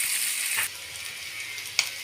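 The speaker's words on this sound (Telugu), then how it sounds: "తాలింపు అయితే మగ్గుతుందండి." A peanut tempering fries in hot oil in a pan for pulihora, giving a steady close sizzle that drops softer partway through, with a brief clink of a utensil near the end.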